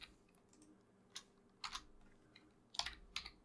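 Keys tapped on a computer keyboard in a few quiet, scattered clusters, soft and close with pauses between bursts, alone without speech.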